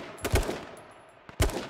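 Gunfire in a first-person shooter video game, two separate sharp shots about a second apart, close and punchy with short tails, no talking over them.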